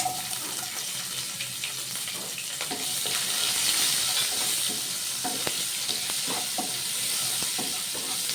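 Onions sizzle steadily in a little oil tempered with nigella seeds, a close, fairly quiet frying hiss with occasional light ticks and stirring clinks throughout, no voices.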